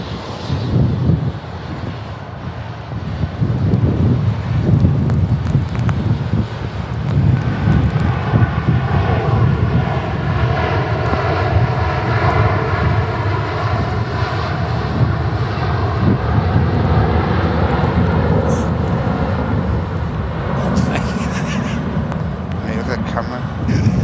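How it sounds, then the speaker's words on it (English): A large passenger jet takes off powerfully at Manchester Airport in stormy, windy weather, with a loud, sustained roar and gusts of wind buffeting the microphone while people talk over it. "That was some serious, powerful takeoff that was."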